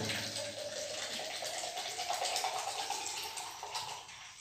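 Cold water is poured into a container for a simple science demonstration, producing a soft, continuous splashing trickle at close range that slowly tapers off.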